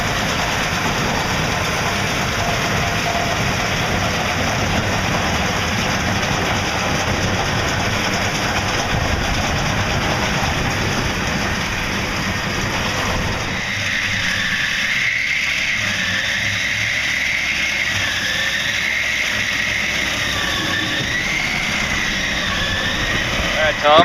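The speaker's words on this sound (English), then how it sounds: "you can now see in the background the WR Series is finishing up the final part of this energy sorghum" A WR Series windrower harvesting energy sorghum in a field, a steady heavy engine drone running continuously in the background, loud and unbroken, with a shift in tone about halfway through.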